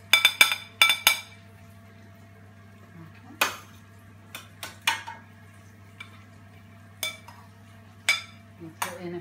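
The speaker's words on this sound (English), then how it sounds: "So, basically, you put in a bit of rice." Rice is spooned into a bowl for a taco bowl, with a run of light clinks and taps of spoon on dish, some quick clusters and scattered single knocks over a faint steady hum.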